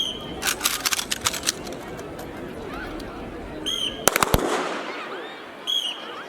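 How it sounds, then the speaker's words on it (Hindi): Soldiers fire weapons from different positions at a Republic Day demonstration, with bursts of sharp cracks and reports at close to middle distance, a tight cluster of loud shots toward the end, and a voice over the crowd noise. "जवानों द्वारा समय काल परिस्थिति के अनुसार अलग अलग पोजीशन में फायरिंग का शानदार प्रदर्शन।"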